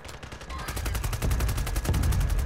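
Gunfire in a Call of Duty match, heard as a rapid, evenly spaced string of loud shots that grows heavier and more booming partway through, close and continuous.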